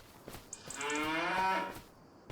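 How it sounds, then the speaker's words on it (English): Cattle moo in the Farming Simulator video game: a single drawn-out, clear moo with a rising then falling pitch, preceded and followed by soft clicks and ambient farm sound. "Cows."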